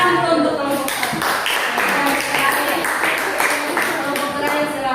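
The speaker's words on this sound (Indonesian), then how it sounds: "Tepuk tangan untuk kelompok" Classroom students clap for a presenting group, a steady patter of many hands with distinct individual claps and some voices mixed in, close and continuous for about five seconds.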